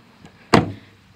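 A car door slams shut with a single solid thud near the microphone, with a faint softer knock just before it and no talk over it.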